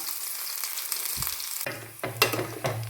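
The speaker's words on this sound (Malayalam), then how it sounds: "രണ്ട് മൂന്ന് കടുകിട്ടു, കടുക് പൊട്ടി, ഉള്ളിയിട്ടു." Mustard seeds and onion fry in a pan for a mutton curry, giving a steady close sizzle with a few sharp crackles and stirring scrapes toward the end.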